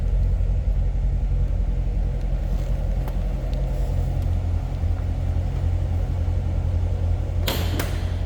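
A 2018 Chevrolet Corvette Grand Sport convertible's 6.2-litre V8 idles with a deep, steady low rumble, loud and close, holding evenly throughout with a brief sharper noise near the end and no talking.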